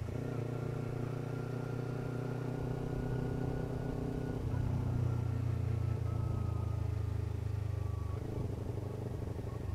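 A Kawasaki Ninja 250R motorcycle engine idles and hums steadily amid street traffic, its low droning note shifting slightly midway as other vehicles pass nearby.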